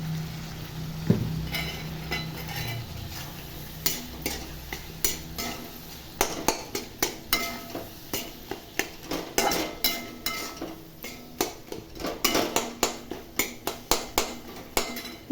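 Tomatoes, salt and kuzhambu powder sautéing in a pan for a simple breakfast dish, stirred with a metal spoon that clinks and scrapes against the pan in a steady run of sharp taps over a soft background sizzle.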